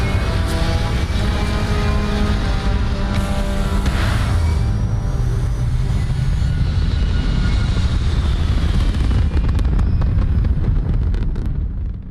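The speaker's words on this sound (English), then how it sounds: "Retros firing." Retro thrusters firing on a spacecraft in a video game, a loud continuous rumbling roar that holds steady for several seconds with crackling bursts near the end.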